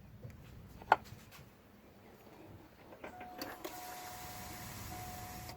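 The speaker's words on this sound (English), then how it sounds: "And you can hear the fuel pump come on pretty strong." A car's fuel pump primes as the ignition key is cycled on: a few faint clicks, then a quiet, steady electric whine that holds to the end, heard from close by without speech.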